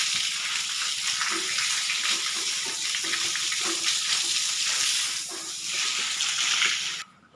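Tap water running steadily and loudly while a pig is washed down in a farm pen, a continuous close gush that cuts off near the end.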